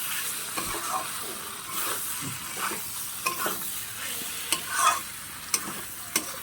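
A spoon stirs Bengali bean curry with shrimp in a sizzling pan, giving a steady fry hiss broken by sharp scrapes and clacks against the metal, close and fairly loud, with no talking.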